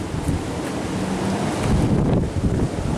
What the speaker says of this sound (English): That wind is pretty bad, though.